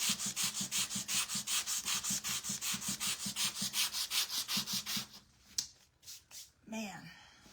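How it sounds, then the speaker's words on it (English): Sandpaper rubbed by hand on a craft surface in a quick, steady back-and-forth rhythm of about twenty strokes, loud and close, stopping after five seconds; a few soft handling noises follow. "I've really used up this piece of sanding paper from just the other day"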